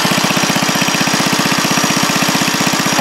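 Small engine driving a DC generator chugs steadily up close, a fast even pulsing thump with a rough, knocking mechanical edge, loud and continuous with no talk.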